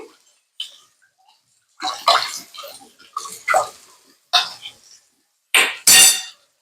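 Buttermilk for kadhi is poured into a pan of cooked okra in several separate splashing bursts with short quiet gaps between them, close and fairly loud.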